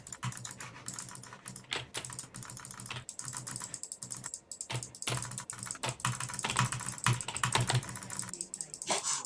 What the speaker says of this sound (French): Ça tapote le clavier